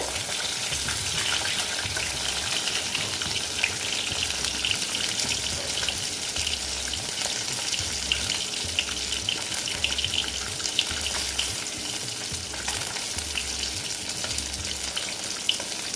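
Pieces of rohu fish frying in oil, a dense, continuous sizzle with popping crackles that stays loud and close for the whole stretch, with a low bubbling undertone.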